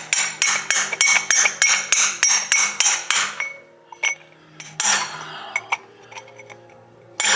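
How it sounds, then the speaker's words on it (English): Loud, close metal hammer blows from a maul driving a bushing into a 1997 Lexus LS400 differential, a fast steady series of about a dozen strikes followed by a few scattered hits and clanks. "I think I hit it with this side of the maul"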